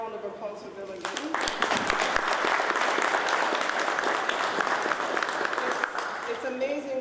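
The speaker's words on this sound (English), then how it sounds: "let's hear a round of applause for Bill again" Luncheon crowd at a North Miami business event breaking into a round of applause for Bill, a sustained full burst of clapping that rises quickly, holds steady and tapers off.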